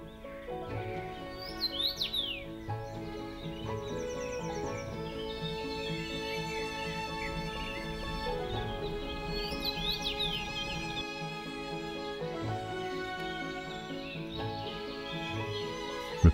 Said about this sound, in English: The song of the common rosefinch is often heard at the gentle transition from open land to dense riparian forest.